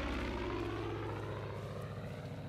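Propeller planes drone steadily overhead in the open-world game Far Cry 5, a loud continuous engine hum with throbbing tones and no talk.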